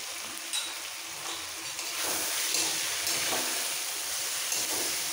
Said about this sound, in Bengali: সবজির সাথে মশলাটা কষিয়ে নেবো।